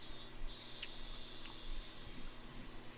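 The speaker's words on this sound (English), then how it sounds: "The cicadas were making the same noises they did yesterday" Cicadas in the Higurashi video game give a steady, high-pitched insect drone that holds for a few seconds without a break, moderately faint and with no talking.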